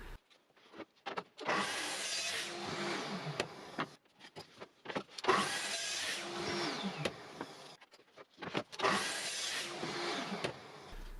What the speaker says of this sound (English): I'm cutting 3 equal pieces for the body.